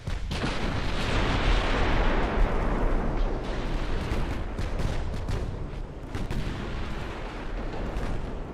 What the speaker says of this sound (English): The torpedo blew up.